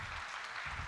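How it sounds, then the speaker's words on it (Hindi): Audience applause at the Vindhya Gaurav Samman 2025 event for Pentium College students: a dense, steady wash of clapping sustained throughout, fairly faint and distant, with no voice over it. "इन तालियों की गूंज ने बता दिया कि पेंटियम कॉलेज के स्टूडेंट्स जानते हैं"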